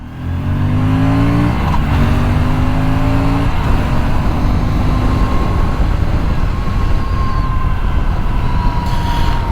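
Aprilia RS 457 engine rising in pitch as the motorcycle accelerates and shifts up through gears, loud and continuous with wind rush, recorded on the bike.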